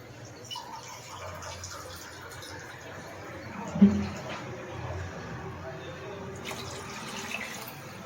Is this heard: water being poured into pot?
yes